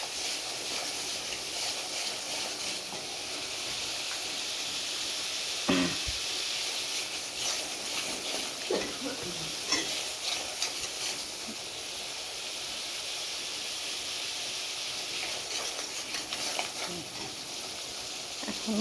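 Spice masala sautéing in a pan gives a steady, close hiss and sizzle that runs unbroken, with a few faint scrapes and clicks scattered through it.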